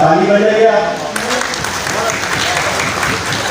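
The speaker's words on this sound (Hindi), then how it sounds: "ताली बजाइए आप।" An audience at an Urdu comic poetry gathering in Telangana bursts into loud, sustained applause after a brief spoken voice at the start.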